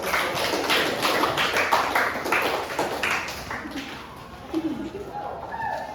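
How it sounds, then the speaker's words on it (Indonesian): A classroom group claps after a student presentation, a brief spell of scattered hand claps in the first few seconds that fades out. A low voice is heard afterward. "Oke, berikan tepuk tangan."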